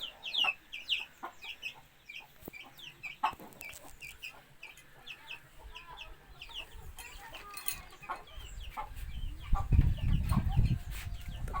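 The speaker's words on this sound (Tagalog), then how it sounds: "Oh, tuwan-tuwa yung sisiw." Chickens and a chick cluck and cheep repeatedly at a home near an outdoor cooking area, the calls close and continuous with some crowing-like notes, while a low rumble swells toward the end.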